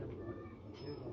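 A Lal Toofan pigeon coos low and steadily on a rooftop loft, close by, while someone talks over it throughout.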